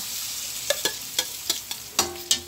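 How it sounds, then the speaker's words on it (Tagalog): Garlic and onion sautéing in a pan under a soft sizzle, with about seven sharp spatula scrapes and clicks against the pan at an uneven rhythm, close up with no talking. "Naggisa siya ng bawang sibuyas."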